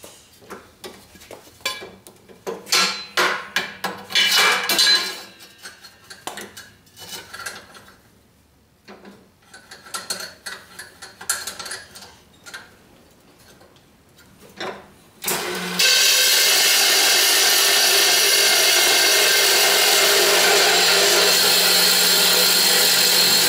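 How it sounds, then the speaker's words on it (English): A MIG welder joining casters onto a metal shrinking stump: irregular clanks and handling knocks, then a loud, continuous crackling hiss of welding that holds steady for the last several seconds. "I'm just going to use the squirt gun, the MIG welder, to weld this thing together."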